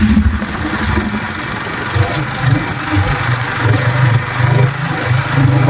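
Motorbike engines hum and rev on a downhill road at the Simhachalam viewpoint in Vizag, a loud, steady engine drone with recurring throttle swells as bikes pass close by.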